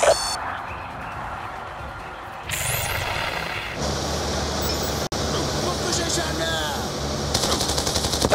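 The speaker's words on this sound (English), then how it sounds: "Enemy fire" Rapid machine-gun fire and explosions during a vehicle convoy battle in the shooter Call of Duty: Black Ops 2, loud and continuous over rumbling engine noise, with radio voices talking.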